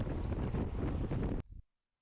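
Headwind buffets a racing cyclist's microphone in a loud, continuous rumbling gust that cuts off abruptly, followed by a short fading tail and silence.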